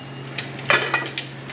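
A metal lid is set onto a cooking pot with a few close, bright clinks and a clattering settle, over a low steady hum in a kitchen.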